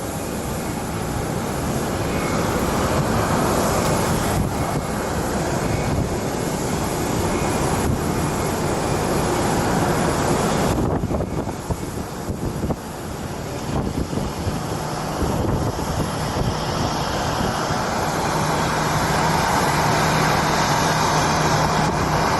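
Freedom 1, an airliner on approach at Phoenix Sky Harbor International Airport at night, gives a loud, continuous broadband engine roar with wind buffeting throughout, dipping briefly midway before swelling again.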